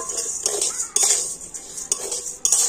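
Rice being stirred in a dry pan while it is roasted for homemade puffed rice, giving a steady scraping rustle with sharp clinks of the utensil striking the pan about every half second to second.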